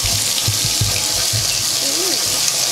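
Water runs steadily from a tap or hose while a deer skull is washed, a loud continuous close gush with some soft knocks and splashes beneath it.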